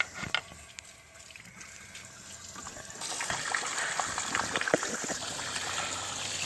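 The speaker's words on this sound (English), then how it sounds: "I got water going in the hose. It's coming out the bottom" Water runs through a radiator hose on a 2003 Honda Pilot, a faint trickle that swells into a steadier, louder gushing flow halfway through, with a few small clicks and knocks.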